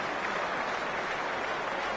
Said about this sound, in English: The crowd really getting behind the blue team here. You can hear them whooping with delight.